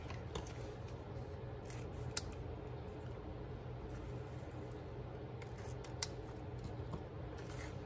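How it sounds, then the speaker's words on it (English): Ribbon scissors snip through craft ribbon in a quiet room, two sharp distinct cuts standing out over faint rustling handling noise. "let me cut some ribbon and see about how much I need"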